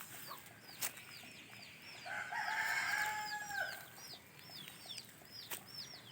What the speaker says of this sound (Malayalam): കോഴി കൂവുന്നു കോഴി കൂവുന്നു കോഴി ഉള്ളതുകൊണ്ട് കോഴിയൊക്കെ ഇങ്ങനെ കൂവും കേട്ടോ